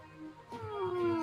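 A voice imitates cats meowing during a tabletop role-playing game, drawing out a long wavering meow that slides and rises, close and alone.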